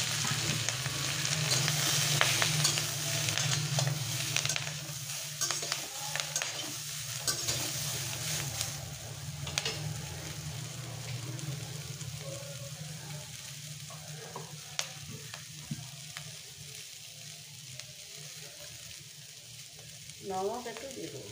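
Chopped spring onion stalks frying in a pan, a continuous soft sizzle with stirring scrapes, steady and close, fading slightly over time.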